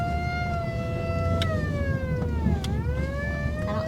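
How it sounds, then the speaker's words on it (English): A wailing truck siren rises and falls in pitch over a rumbling vehicle engine, loud and close, with no voices; the siren sounds weak. "I'm gonna have to get me a new siren. This thing getting weak."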